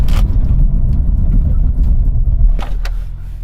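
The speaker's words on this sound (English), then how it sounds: "I'm going to do a full emergency stop from 60 miles an hour" BMW M2 making a full emergency stop from 60 mph, a loud close road and engine rumble steady throughout, easing off near the end.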